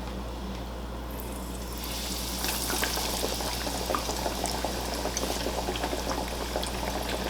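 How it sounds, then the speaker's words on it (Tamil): Roti pieces deep-fry in hot oil, giving a busy, continuous bubbling and crackling hiss over a low hum that grows louder and denser partway through. "அதே மாதிரி மற்றதையும் போட்டு பொரிச்சு எடுங்க"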